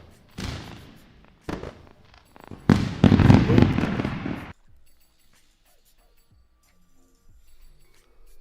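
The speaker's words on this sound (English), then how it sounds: "We must hit those fireworks." A fireworks sound effect is played for a celebration during a live day-trading stream, giving a few sharp bangs and then a dense crackling burst for several seconds, loud and close, before fading to near silence.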